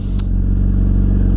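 Honda CBR600RR motorcycle with a full exhaust system, tune and quick shifter, heard while riding: a loud, steady mid-pitched engine drone that holds constant throughout with a brief higher rasp near the start.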